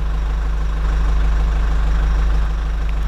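Forklift engine running at idle close by, a loud, steady low rumble with a faint regular pulse and no other sounds.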